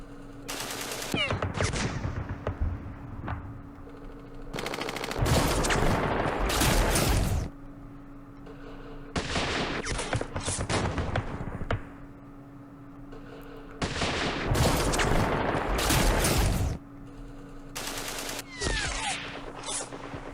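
Heavy bursts of gunfire and booming artillery in a Middle East war strategy game come in repeated loud volleys several seconds long, separated by quieter stretches over a steady low hum.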